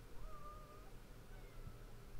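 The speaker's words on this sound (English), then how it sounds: "That kitty is going crazy." A cat meows a few times indoors, faint and somewhat distant over a low background hum, with the cries drawn out and wavering.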